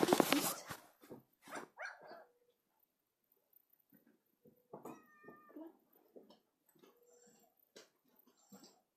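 A golden retriever puppy in the Nintendogs + Cats video game barks and yips in short bursts, with a few louder early yelps, then quieter scattered game sounds and chimes.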